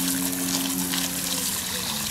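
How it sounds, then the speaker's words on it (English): Low-pressure water rinsing an S&B air filter during cleaning, a steady close trickling and splashing flow that runs without a break under a constant hum. "we're going to use water to rinse this off. We're going to use low pressure water."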